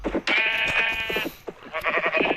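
Sheep in a Minecraft-like blocky video game bleat in a loud, wavering series of cries, a long drawn-out bleat followed by shorter repeated ones close to the listener.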